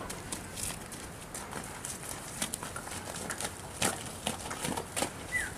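Quiet, irregular hoof thuds on the ground as a horse slowly steps backward over several metres, with a few faint bird chirps in the background.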